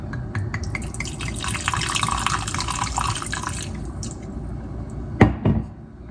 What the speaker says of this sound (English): Going to go in with our white wine.